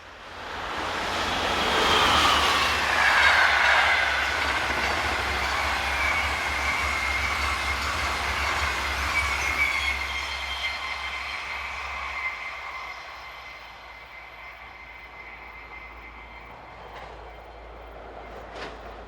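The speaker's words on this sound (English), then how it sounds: "The overnight sleeper service from Venice to Paris is operated by Thello, and it rounds the curve here headed by" Thello's overnight Venice–Paris sleeper train rounds a curve, a loud sustained rolling roar with high squealing wheel flange tones that swell early and then slowly recede over about twenty seconds.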